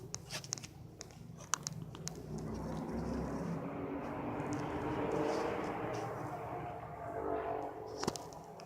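A large airplane flies overhead behind trees, its faint, steady roar swelling over several seconds and then fading, with a few close clicks and handling knocks at the start and end.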